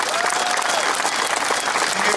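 An audience claps in steady, dense applause that stays loud and even throughout with no pauses, sounding like a full hall clapping close by.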